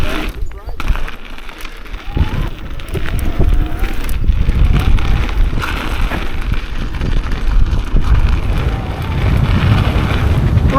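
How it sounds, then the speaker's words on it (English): Wind roars into the microphone while someone rides an electric mountain bike straight into a headwind, a loud, constant, close buffeting rush that lasts the whole stretch. "Right into the wind."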